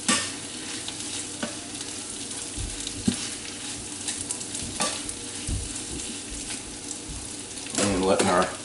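Potatoes frying in a pan and stirred now and then at breakfast, a constant sizzle with scraping and clinks of the spoon, louder and busier toward the end.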